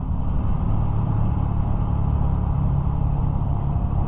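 A steady motorcycle engine, stock with a 14/38 sprocket combination, drones at a constant pace at speed with a low rumble, loud and close, blended with rushing wind and no voices.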